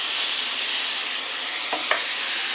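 Ground ginger, garlic, onion and green chili paste with a splash of water sautés in a pan for a soya curry, giving a steady close sizzle with two brief stirring scrapes near the end.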